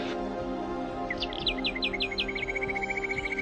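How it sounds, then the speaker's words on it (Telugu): Baya weaver birds at Vantara call in a quick series of bright, chirping notes that settle into a steady rapid trill, faint and clear over a low background hum. "బయోవీవర్ లాంటి పక్షులు తమ గుళ్ళ నిర్మించుకునేందుకు సరైన ప్రదేశాన్ని అందుకుంటున్నాయి"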